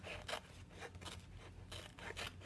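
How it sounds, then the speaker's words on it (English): Scissors snip across a craft transfer sheet for a chalk-paste pillar board, giving a run of close, dry scraping cuts in short repeated bursts with no talking. "So I'm just gonna cut my transfer right across that line here."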